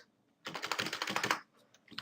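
Fast, steady typing on a computer keyboard, a dense run of close clicks lasting about a second, then a few scattered keystrokes after a short pause.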